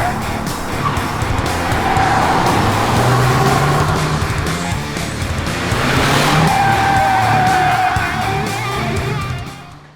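A 2022 VW Polo GTI on fresh tires accelerates hard around a race circuit, its engine roaring loud and close without a break, rising in pitch through the gears while sharp tire squeals cut in and out.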